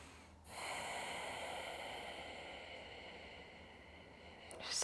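Slow, deep breath during a yoga session, a long soft airy exhale heard close and alone in a quiet room.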